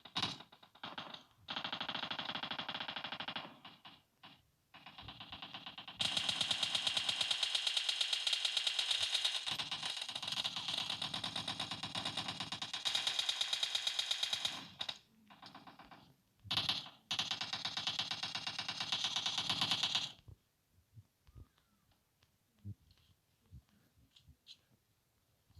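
PUBG Mobile gunfire rattles in long, rapid automatic bursts, loud and close, broken by brief pauses, then fading into sparse clicks.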